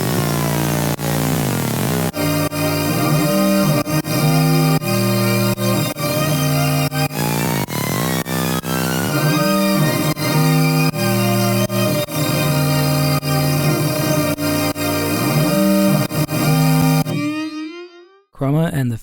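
A dense, loud synth pattern with chroma layered over a phase flanger swirls in shimmering, atmospheric sweeps above steady pulsing hits, holding throughout before dropping away near the end.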